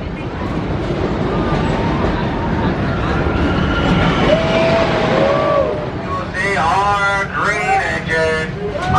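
Loud rumbling roar of a wooden roller coaster train rolling past on its track at Kings Island, with screaming riders rising near the end.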